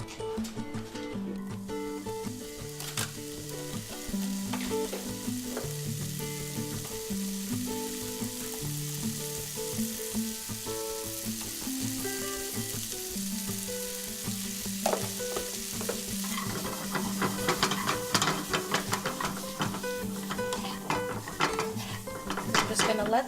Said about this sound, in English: Just gonna let those blueberries cook with the brown sugar on medium-low heat for about 5 to 8 minutes.